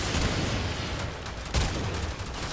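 A Sarpa gunblade shotgun fires in a video game, producing dense, loud, continuous blasts of gunfire with a sharp heavy shot near the middle and no voice over it.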